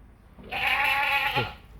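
One loud, close bleat lasting about a second comes from a milking goat that has kidded three times and yields two litres of milk, with quiet farmyard background before and after.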